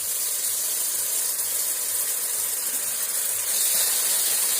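Blue Band margarine melting and bubbling in a hot pan, a steady soft hiss and fizz of continuous sizzling that holds even throughout, no voices over it.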